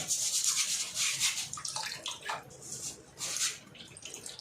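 Rice being rinsed by hand in water for pares, a close wet swishing and rubbing with brief surges and small drips, no voices.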